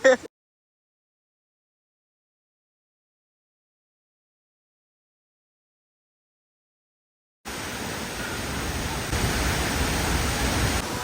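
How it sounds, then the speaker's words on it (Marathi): A large waterfall at a Satara sightseeing spot roars as steady broadband noise, loud and continuous, breaking in after a long silence and holding to the end. "फायनली आपण पोहोचलोय मोठ्या धबधब्यापाशी"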